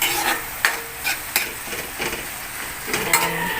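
Seafood kare-kare being sautéed by a mother in a home kitchen pan, a steady close sizzle with scraping stir strokes and a few sharp clinks, no voices.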